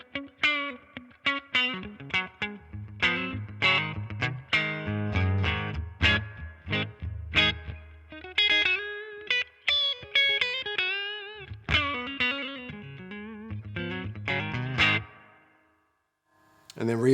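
Electric guitar through a Marshall DSL15C 15-watt combo with reverb set around 7, overdriven chords and single-note runs ringing out with audible reverb tails, pausing briefly near the end.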